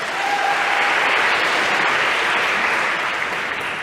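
Steady, dense applause from a lecture-hall audience fills the room at a constant level for the whole stretch, with no talking over it.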